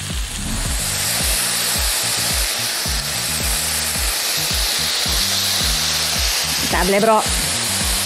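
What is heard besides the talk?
chicken searing in a frying pan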